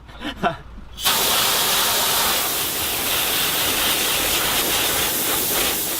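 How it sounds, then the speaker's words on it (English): Cold water from an outdoor public hose sprays steadily in a loud, continuous hiss, starting abruptly after a brief quiet moment and running on without break. "Okay, I think that's good enough for my shower for the day."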